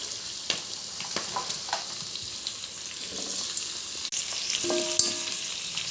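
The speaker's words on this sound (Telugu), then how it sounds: "నూనెలో అంతా మంచిగా ఫ్రై చేసుకోవాలండి" Goat head curry frying in oil in a Telangana-style home kitchen, giving a steady soft sizzle with occasional stirring clinks and scrapes, close and alone.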